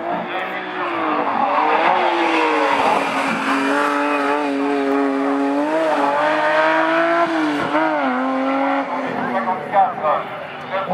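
A light Marguerite 1300 racing car driven by Gilles Turgot roars past, its engine a sustained, loud buzzing drone with rising and falling pitch shifts, heard under continuous commentary.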